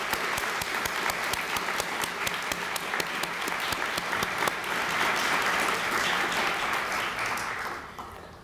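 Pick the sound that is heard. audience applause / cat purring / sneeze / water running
audience applause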